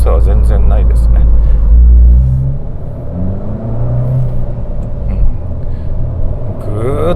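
Abarth 695 Tributo 131 Rally engine pulling in Sport mode, a deep, loud interior rumble that surges, eases, then builds again, with someone talking over it.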